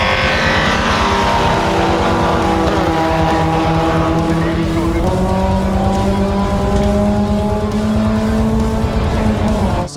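A Ford Fiesta race car engine roars steadily at high revs at Knock Hill circuit, pitch climbing and dropping through gear changes, loud and close, with faint tire noise throughout.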